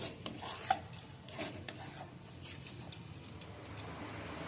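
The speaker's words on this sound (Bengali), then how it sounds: "এ দেখুন পুরটাকে নেড়ে নেড়ে একটা শুকনো পুর তৈরি করে নিতে হবে" A mung dal and gram flour filling is stirred in a pan: a spoon scrapes and taps against the metal in an uneven rhythm over a faint, low sizzle.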